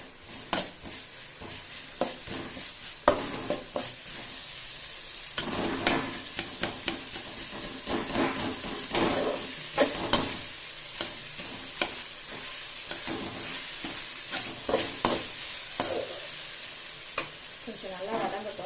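Onions and tomatoes sauté in a pan for a Tamil kathirikai kuruma kuzhambu, with a steady sizzle and repeated scraping stirs close by.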